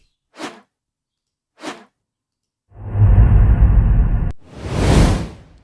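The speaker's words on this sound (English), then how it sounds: "You click on the plus and the swoosh has been added to the video." Swoosh sound effects added in a video editor: two short airy whooshes, then a loud sustained rushing burst that cuts off and gives way to a final broad swoosh, all crisp and close with no talk.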